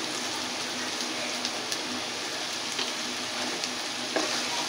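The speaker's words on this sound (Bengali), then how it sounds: "ভালো মতো মশলাটাকে কষিয়ে নিব" Spice masala for a chicken and cabbage curry fries in a pan with a dense, rain-like crackling sizzle, close and fairly loud, with occasional stirring knocks.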